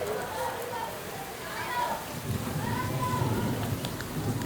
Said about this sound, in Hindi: फुल बूंदाबांदी चल रही है और बादल गरज रहे हैं